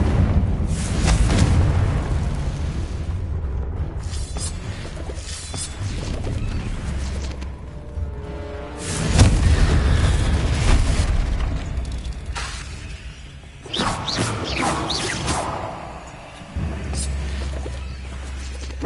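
Confringo fire spell blasts going off in Hogwarts Legacy, a series of loud booming explosions with crashing debris, several bursts spread across the stretch amid game noise.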